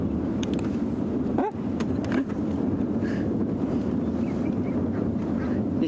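Egyptian goose calling as a small animal chases it through the African bush, harsh honks over a steady roar of wind and a running vehicle engine, with no speech.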